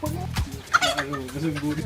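A chicken being caught in the Philippines gives agitated, loud clucks and squawks close by, in a short burst with a sharp peak partway through.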